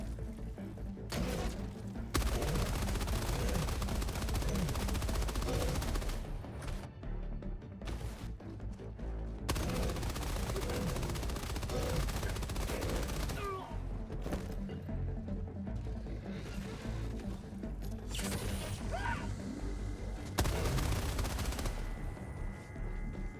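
Machine gun fire in the Helldivers 2 shooter game, long loud bursts of rapid automatic shots, with brief pauses and mechanical reload clatter between them, mixed with battle noise and crashes.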